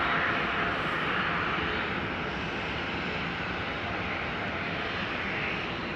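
A Vueling airliner bound for Valencia taxis at Amsterdam Schiphol, its engines giving a steady, loud broadband whoosh and rumble that stays even throughout with no voices.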